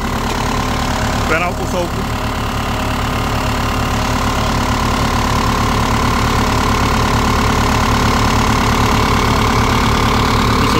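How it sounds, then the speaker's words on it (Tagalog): Isuzu diesel engine of a Hitachi EX100 excavator idling nearby, a steady loud rumble with an even knocking throb throughout, while someone talks over it. "Isuzu engine."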